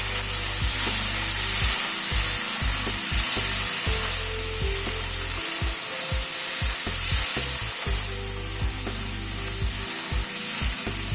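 Boiled kabuli chana (chickpeas) with ginger being stirred in a hot pan, with a steady loud sizzle of frying under repeated scraping strokes and soft knocks of the spatula, close up and continuous with no talk.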